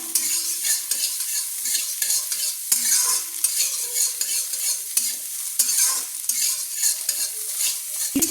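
Scrambled eggs made from three eggs fry in a pan while being stirred. A steady close sizzle runs under repeated scraping stirs and utensil knocks, with no talking.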